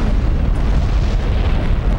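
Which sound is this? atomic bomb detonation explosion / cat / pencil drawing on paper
atomic bomb detonation explosion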